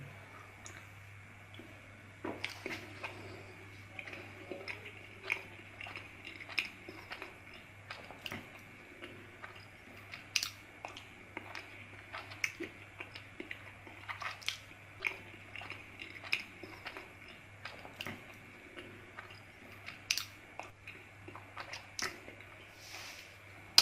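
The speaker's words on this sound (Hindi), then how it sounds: "अच्छी तरह आपने खुद जो खजूर है वो चबा के पानी के साथ निकल ली है।" Dates being chewed with a sip of water, soft close mouth clicks and squishy bites repeating irregularly over a low steady hum, no talk.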